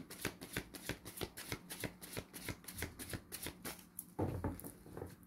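Cards are shuffled for a three-card heart-chakra reading, a rapid close riffle of crisp flicking taps that runs for several seconds before ending with a soft bump.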